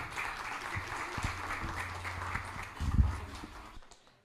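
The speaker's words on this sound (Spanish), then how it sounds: "Les pido un fuerte aplauso para el doctor Zambrano." An audience at a medical talk applauds a doctor, a soft, somewhat distant patter of clapping that swells briefly near the end before fading out.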